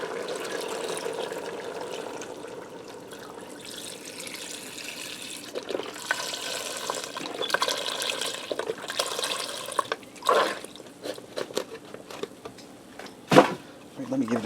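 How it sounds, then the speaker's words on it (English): Beef broth from a 4-cup box pours into a pressure cooker, a soft running liquid splash with scattered clinks and handling noises and a sharper knock near the end. "And I have a 4-cup box of beef broth. We're going to put that in."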